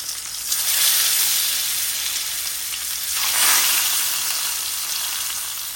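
Eggs frying in turmeric-tinted oil give a steady, dense sizzle throughout, swelling slightly in the middle and late part, close and fairly loud with no talking.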